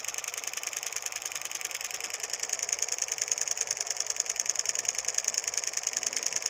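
A small homemade transistor solenoid engine with a cardboard rotor, driven by a blinker circuit, runs with a fast, even, close-up ticking and clicking that stays regular and gets slightly louder partway through, with no talking.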